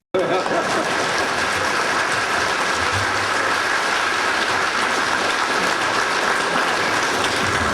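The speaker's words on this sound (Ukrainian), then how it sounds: "Обидва призначення зривають оплески залу" An audience in a hall applauds two official appointments, a dense sustained clapping that starts abruptly and holds steady and loud throughout, with faint voices mixed underneath.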